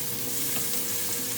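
Rough-chopped vegetables for kare kare are stirred in a hot oiled pan, giving a steady close sizzle with light scraping, short and with no talk.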